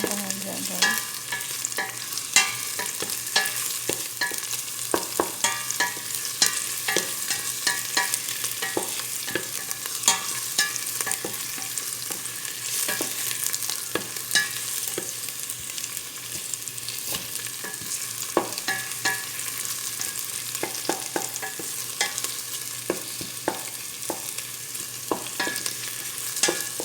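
Onions sauté in hot cooking oil in a pan for Filipino chicken sotanghon guisado, a continuous sizzle punctuated by frequent scraping stir strokes, close and unaccompanied by speech.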